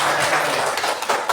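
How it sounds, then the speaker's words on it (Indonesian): A brief burst of hand clapping from a classroom of students answering a teacher's questions, a dense patter of claps lasting just over a second. "Beri tepuk tangan lagi."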